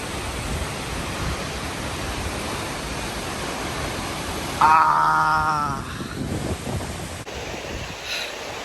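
Steady broadband roar of a waterfall in Oregon's Columbia River Gorge, constant and close, with brief wind buffeting on the microphone and a faint voice partway through.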